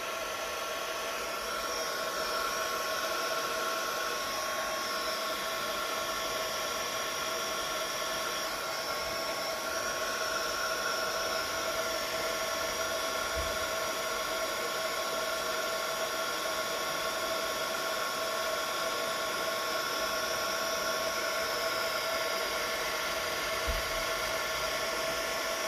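A heat gun blows steadily while heat embossing a card, a loud, unbroken whooshing hiss of hot air held close for the whole stretch, with no talking.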